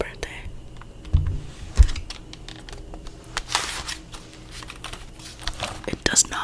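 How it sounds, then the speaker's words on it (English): Fingers tap on a non-working computer keyboard in an ASMR setting, producing scattered close clicks and clacks with a few louder thumps, while someone talks softly. "So this is the keyboard we used on the channel's first birthday."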